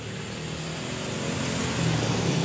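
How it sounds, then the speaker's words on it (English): A motorbike passes along a roadside, its steady broadband engine rumble swelling louder near the end as it draws closer, with no voices. "Kalau ada suara motor ya nggak apa-apa lah"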